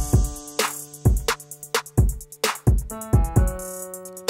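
Sparse piano chords over a punchy drum beat, with no Reese bass yet, for the intro of a hip-hop style production. The chords and hits fall in a steady, loud rhythm, and no voice is heard.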